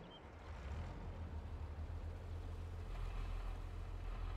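Allis Chalmers 185 tractor engine in the Farming Simulator 22 video game, a steady low diesel drone that idles and rumbles continuously without breaks, moderately loud and alone.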